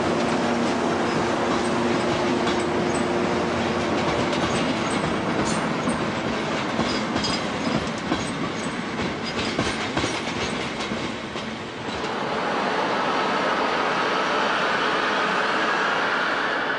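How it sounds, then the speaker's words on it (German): A DR V60 shunting locomotive moves through Leipzig Hauptbahnhof in the 1990s, giving a loud, steady rolling rumble with rail clatter that carries on for the whole stretch and eases slightly near the end. "Für Rangierarbeiten ist noch die gute alte DRV60 zuständig."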